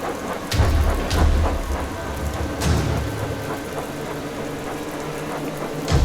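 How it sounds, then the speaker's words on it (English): Heavy rain pours steadily while thunder booms and rumbles several times, the loudest cracks near the start and then deep rolling echoes fading out. "a fierce storm hit the island"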